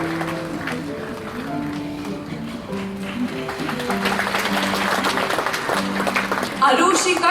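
Audience clapping for a prize winner at a school's annual prize distribution, a continuous patter of applause that grows louder toward the end, with a music tone playing along beneath it.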